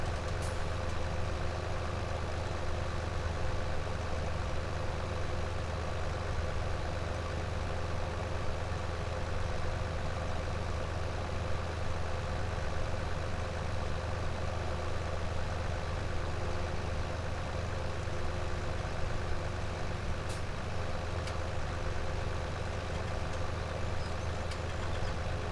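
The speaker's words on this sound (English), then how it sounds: "I think this tractor is a little underpowered for this plow." A tractor in Farming Simulator 17 strains while pulling a heavy plough, giving a steady, unbroken engine drone with a constant rumble that holds at the same level throughout, with no talking.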